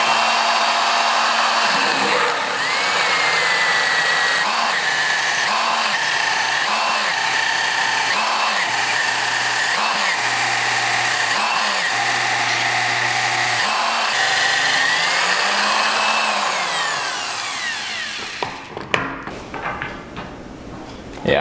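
Steady, loud drill whine from cutting fixturing holes into a thick cast iron fab table with coolant, with repeated low pulses as the bit feeds, then winding down to clatter at the end.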